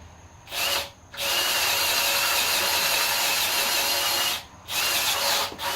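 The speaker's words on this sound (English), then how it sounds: "It's probably a ½ inch hole that needs to be drilled." Power drill boring a half-inch hole while work proceeds on a 1951 Chevy motor swap, a loud continuous whine broken by two short pauses as the trigger is released and pressed again.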